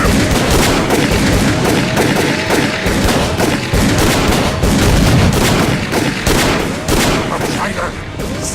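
Gunfire shooting at a fleeing man in the video game Call of Cthulhu, rapid close bursts of loud shots in a dense, irregular volley lasting throughout, with shouting voices mixed in.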